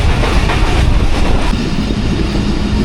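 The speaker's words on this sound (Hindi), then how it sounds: "खैबर मेल थी जी, ये अचानक से आ गई।" The Khyber Mail passenger train rushes past close by, a loud continuous roar of wheels and carriages with rhythmic clatter, filling the whole stretch without any voices.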